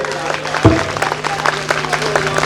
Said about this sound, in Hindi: जोरदार तालियां बजा दीजिए सब लोग।